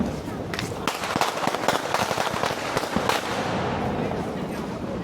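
Diwali firecrackers burst in a rapid, irregular string of sharp cracks and pops over a constant crackling hiss, loud and close, with faint voices in the background.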